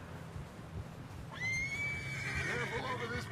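A horse in Red Dead Redemption 2 gives a loud, drawn-out whinny over a low rumble of hooves and ambient game noise.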